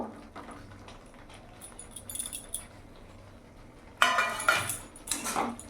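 Pre-fried okra (bhindi) tipped into a pan of oil and stirred, with metal spatula scrapes and clinks against the pan in a vegetarian mustard-poppy seed dish, quiet at first, then louder clattering stirring near the end.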